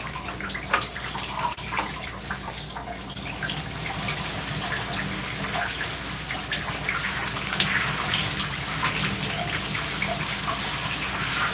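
Water runs steadily while shampoo is rinsed out of natural curly hair during a wash, a continuous close splashing hiss with small spatters and no voices.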